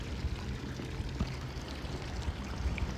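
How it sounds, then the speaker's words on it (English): Water drips and trickles from a bird bath fountain outdoors in a steady, close, soft patter with small irregular splashes, no voices. "I'm beside that bird pee fountain again. If you're wondering why it sounds like dripping water"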